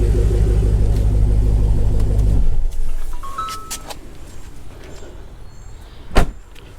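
A Dodge Hellcat's engine rumbles at a steady idle after warming up, then shuts off, leaving quiet clicks and light handling noises nearby.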